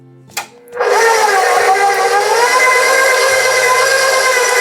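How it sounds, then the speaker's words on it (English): An electric mixer creams soft butter with sugar for lemon bars, starting after a click and then holding a loud, steady whirring drone close by for several seconds. "let's start out by mixing it with the sugar"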